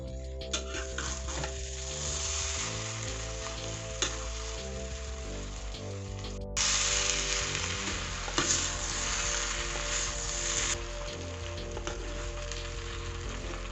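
Fried rice with fermented pork sizzling in a small hot pan while a utensil scrapes and stirs it around, a busy continuous frying hiss with intermittent scraping.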